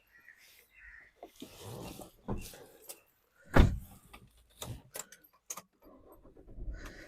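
A 2018 Tata Nexon XM diesel car: keys jangle and a door thumps, then the engine cranks and catches on a single self-start in one loud low burst, settling into a faint idle rumble near the end.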